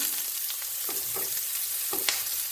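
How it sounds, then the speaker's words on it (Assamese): Chopped onion fried in hot melted ghee in a pan for a paneer curry, a constant close sizzle with several spoon scrapes and stirs scattered through, no voices. "এতিয়া আমি পিঁয়াজখিনি কাটি থৈছিলোঁ দি দিম।"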